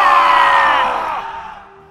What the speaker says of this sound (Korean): 가야군과 외나라군이 지르는 함성이 하늘과 땅을 뒤흔들 듯이 들려왔습니다.